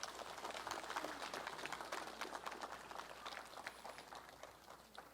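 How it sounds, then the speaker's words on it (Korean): Applause at a Buddhist memorial ceremony in Busan, welcoming a donation of 108 bags of rice: steady, crowd-wide clapping that sounds distant and faint and continues evenly for several seconds. "큰 박수로 환영해 주시기 바랍니다"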